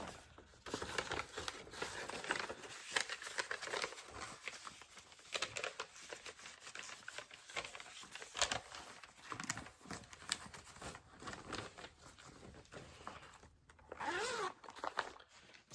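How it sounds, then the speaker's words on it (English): Close, quiet crinkling of plastic packaging mixes with repeated zipper pulls and rustling while embroidery supplies are handled, a busy stream of small crackles and rasps with short pauses. "Sorry for the crinkly sounds and the zippers, everybody."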